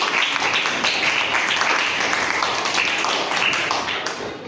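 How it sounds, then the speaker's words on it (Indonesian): A classroom of students claps for a classmate in a short, dense burst of hand clapping that tapers slightly toward the end. "tepuk tangan untuk Dewi"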